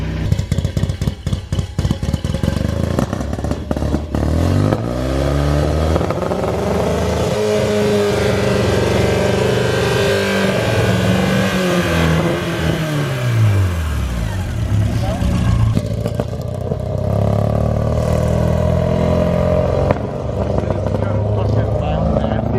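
A cold Porsche 944 race car engine, started after sitting unused, runs loud and rough, rising and falling as it revs, with a rumbling idle between bursts and no talking over it.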